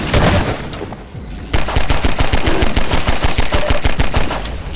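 Rapid pistol gunfire in Half-Life 2: Episode Two, a loud burst of evenly spaced sharp shots, a brief pause, then another long string of quick repeated shots.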